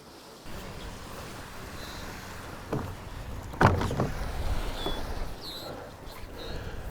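Choppy surf washes in at a beach as a broad, continuous rumble and hiss, with a louder breaking surge midway and a few faint higher chirps over the wind-touched roar.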